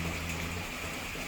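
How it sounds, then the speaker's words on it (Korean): Winter rain in Vancouver pours down in a dense, even wash of patter and hiss, fairly near, alone without voices and with a faint low hum early on. "정말 하염없이 비가 내립니다."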